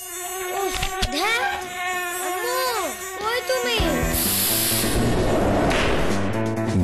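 Buzzing mosquitoes in a mosquito repellent advertisement whine with rising and falling pitch sweeps, loud and close, before the buzzing gives way to a bright, washy burst of sound.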